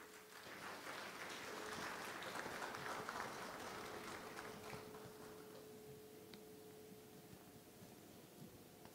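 A gala audience at a business awards event applauds an executive, steady clapping that swells over the first few seconds and then thins out, heard faintly at a distance against a hum.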